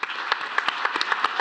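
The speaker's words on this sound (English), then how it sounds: "she deserves a long round of applause" An audience at a live event applauds with a quick, steady patter of claps, close and fairly loud for a brief moment.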